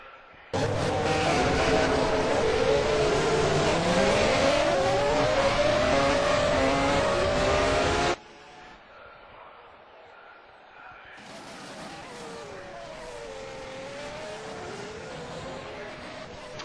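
Race cars in a V8 Supercars racing video game set off on a formation lap in Bahrain, a loud sustained engine drone with rising revs that cuts off abruptly, then returns more faintly with shifting pitch.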